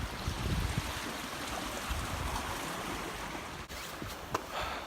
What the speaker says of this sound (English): how much that waterfall would be flowing